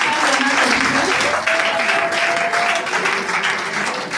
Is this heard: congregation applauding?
yes